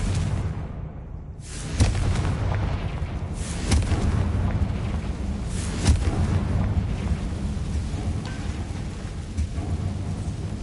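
Fire spell blasts in Hogwarts Legacy on PS5, a dense rumbling roar with several booming hits every couple of seconds over a continuous low, stormy background of game sound.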